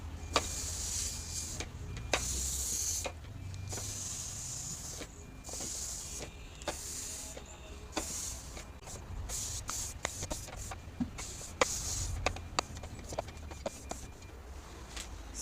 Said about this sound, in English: I'm going to iron it down on it